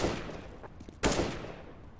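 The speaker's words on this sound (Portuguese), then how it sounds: "O Demone vai tomando tiro." Gunfire rattles in a Counter-Strike match on the Cobblestone map, with dense overlapping shots, a sharp burst near the middle, and continuing fire under faint background noise.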